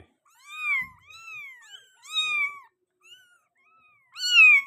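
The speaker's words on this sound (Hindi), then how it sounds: "ये माशाल्लाह डॉल फेस में है किटन" A Persian doll-face kitten about 23 days old meows repeatedly in clear, close, rising-and-falling cries, several separate calls with short pauses between them and no talking.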